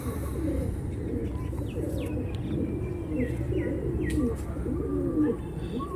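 Pigeons of the Andhra Kalsira breed cooing in a loft, soft repeated low coos overlapping one another with occasional chirps over a constant busy background, close by.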